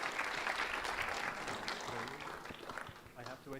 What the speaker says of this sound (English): A round of applause for Tom